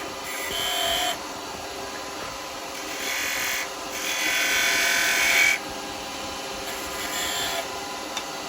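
A wood lathe turning a baby rattle held in homemade chuck jaws, with a roughing gouge cutting in repeated bursts of scraping and rasping over the steady hum of the running machine.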